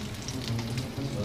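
Sausage topped with cheese fries in hot oil on a plate, giving a dense, steady close sizzle with scattered pops and crackles throughout and no talking.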